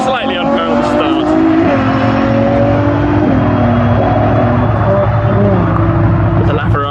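A LaFerrari hybrid V12 hypercar launching from a drag race start alongside another hypercar, engines roaring loudly with rising and shifting revs throughout, close and continuous with crowd-like background noise.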